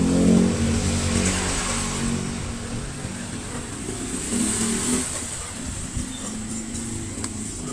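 An Ingco angle grinder with a newly replaced bearing runs steadily and noisily close by, a continuous motor drone with a rough, grinding edge and slight swells in level, with no talking.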